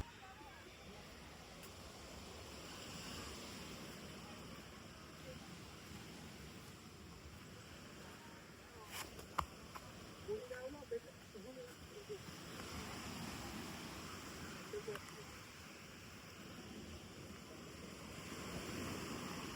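Surf rolls in steadily at Jungle Beach near Galle, Sri Lanka, a soft, continuous wash of waves heard from some distance, with a few brief knocks and faint sounds partway through.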